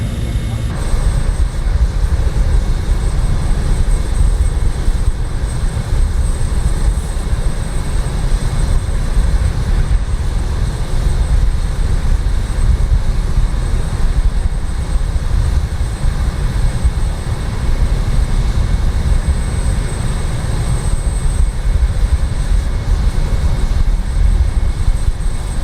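Jet engines spool up at takeoff power in Microsoft Flight Simulator as the aircraft begins its roll on a dusty off-road strip in Uganda, a dense, steady roar filling the whole stretch.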